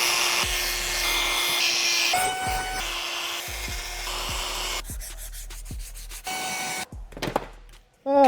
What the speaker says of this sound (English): I just finished sanding these and it looks so much better.